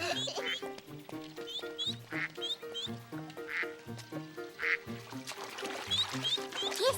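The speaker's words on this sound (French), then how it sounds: "Regarde, des canards." Cartoon ducks quacking at a family picnic by the water, a lively series of rhythmic nasal quacks from several birds overlapping in quick bursts, close and clear.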